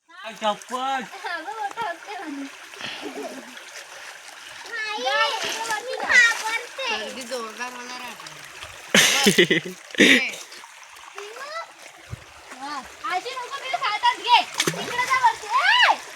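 Children chatter and call out in Konkan as water splashes in a few loud bursts, with a steady trickle beneath the voices.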